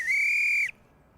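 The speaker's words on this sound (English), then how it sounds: "stopping when a whistle blows" One loud, steady whistle blast sounds for about two thirds of a second during a children's bike-riding skills session, cutting off sharply into quiet.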